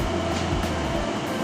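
An Amtrak Northeast Regional train rumbles past on the adjacent track, a steady close rolling roar with low clattering, no voices.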